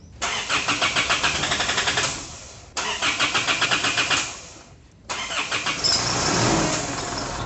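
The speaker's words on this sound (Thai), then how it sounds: "แล้วก็ไปสตาร์ทรถเทสกัน" Isuzu MU-7 / D-Max diesel engine cranking and starting after an injector washer replacement: three loud bursts of rhythmic starter cranking, the last catching into a steady running engine, with no talk.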